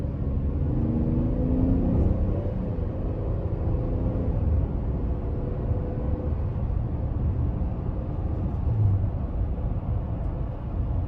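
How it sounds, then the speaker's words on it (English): A 2020 Chevy Traverse Premier Redline Edition with a V6, heard from inside the cabin under throttle: a steady low engine drone and road rumble with a faint rising tone near the start, no talking. "gonna give it one more little bit of throttle."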